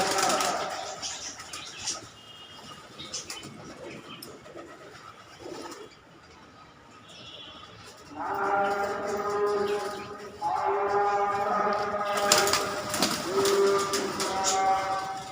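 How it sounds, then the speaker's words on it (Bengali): Pigeons of various fancy breeds coo in a loft, soft throaty calls at first and then a dense chorus of overlapping cooing from several birds nearby, with faint rustling in the quieter gaps. "অনেক গোলাপ কবুতর আছে এখানে দেখেন"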